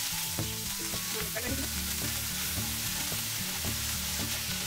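Ginger garlic paste sizzles steadily in hot oil with cumin and bay leaf, a continuous close crackle with pulsing stirring rhythm and no talking.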